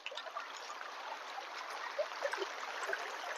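A monsoon stream in Konkan flows with a soft, continuous trickle and gurgle, faint and close, with small splashy accents and no talk.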